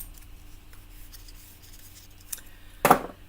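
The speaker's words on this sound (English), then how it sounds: "I want my non-sticky snips." Non-stick craft snips cut through a wide ribbon with a single crisp, close snip near the end, following quiet rustling handling sounds.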